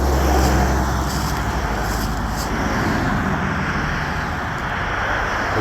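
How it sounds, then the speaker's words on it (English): Several cars go by one after another on a road near Annapolis, a steady rushing traffic wash with a few brief passing swells. "As multiple cars go by."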